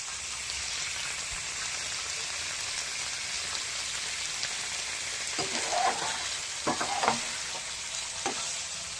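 Egg curry (dim kosha) frying in a pan gives a steady, close sizzle that runs throughout, broken by a few soft scrapes and stirring knocks near the end.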